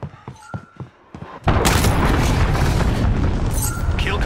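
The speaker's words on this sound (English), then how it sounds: "Enemy cruise missile." A cruise missile strike in Call of Duty: Modern Warfare lands as a sudden loud boom after a second of quieter game sounds, then rolls on as a dense, sustained roar of debris and rumble.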